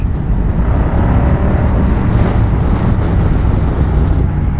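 A Moto Guzzi V100 Mandello motorcycle of about 233 kg accelerates on the road, its engine blending into a steady, loud rush of wind and road noise that holds without pause and with no talk.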